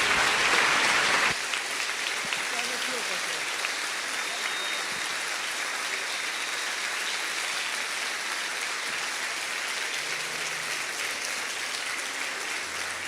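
A church congregation bursts into sustained applause, loud and dense at first, then settling into steady clapping that continues for several seconds.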